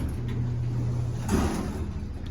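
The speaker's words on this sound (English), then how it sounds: "There's something wrong with the door. Watch it close. There it goes." Montgomery G&P hydraulic elevator door at a pediatrics office, which has something wrong with it, sliding shut; a faint hum gives way to a brief rumbling slide and a soft thud near the middle, with no talk.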